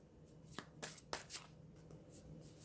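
Tarot cards shuffled by hand at close range, a few crisp riffling bursts over a faint steady background hiss, with no talking.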